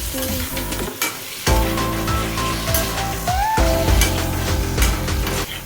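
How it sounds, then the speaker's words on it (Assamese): Cut magur catfish pieces fry with spices in a pan, giving a loud, continuous sizzle with occasional stirring scrapes and brief dips in intensity. "এতিয়া কাটি থোৱা মাছখিনি দি দিলো দি কিনে অকণ সময় মছলাৰ সৈতে এনেকৈ ভাজিম"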